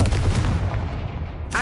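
A Confringo fire spell bursts in Hogwarts Legacy, a heavy booming blast that rolls off in a rumbling tail, with a brief voice cutting in at the very end.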